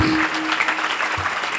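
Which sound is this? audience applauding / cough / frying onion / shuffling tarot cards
audience applauding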